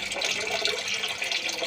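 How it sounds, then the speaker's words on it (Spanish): Water pouring from a jug into a soda maker bottle, a continuous close splashing, gurgling fill that holds steady throughout. "Luego lo relleno con agua del bidón."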